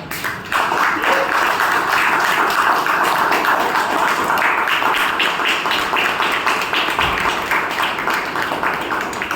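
Sustained audience applause at a Toastmasters meeting, many hands clapping steadily and loudly for about nine seconds with no talk over it.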